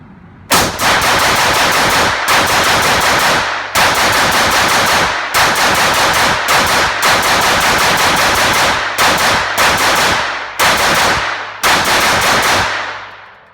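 An FN PS90 semi-automatic rifle firing 50 rounds in rapid succession outdoors, loud dense bursts of shots grouped into several long strings separated by brief pauses.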